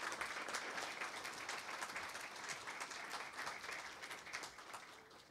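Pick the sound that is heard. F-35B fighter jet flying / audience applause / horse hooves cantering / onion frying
audience applause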